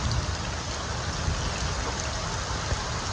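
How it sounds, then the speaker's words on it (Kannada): Steady rain falls in a dense, even hiss outdoors, with a faint low rumble underneath and no voices, continuous throughout. "ಹಳೆಕಾಲ ಮಳೆ ಬೀಳ್ತಿದೆ ನೋಡಿ"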